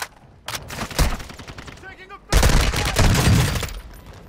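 Video game gunfire comes in rapid bursts: a short volley, a pause with a brief chirping tone, then a louder sustained stretch of automatic fire with voice callouts mixed in.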